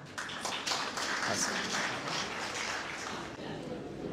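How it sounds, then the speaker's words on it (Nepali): An audience applauds a poem at a Nepali comedy and poetry gathering, steady clapping from a crowd sustained throughout at a moderate distance. "जोरदार तालीले तपाईँहरूले उहाँको कवितालाई राम्रो भनेर दर्शाइसक्नु भएको छ"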